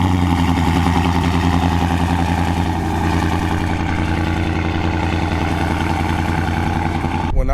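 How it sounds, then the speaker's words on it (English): A Dodge Charger Scat Pack fitted with BBK longtube headers and mufflers removed fires up cold, holding a loud, steady, rumbling idle throughout before cutting off abruptly at the end. "I'm about to get y'all the first cold start"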